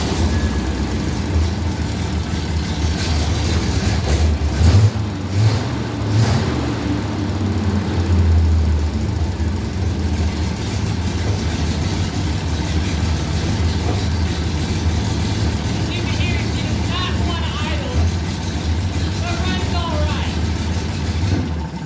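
An old mechanical dump truck engine with a coil-over-distributor ignition runs steadily after being revived and running rich, a loud, continuous rumble with a few rev bumps early on, while someone talks over it.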